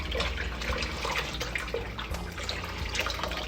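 Water pours steadily out of hot glass canning jars in a continuous close splashing rush, loud and unbroken throughout.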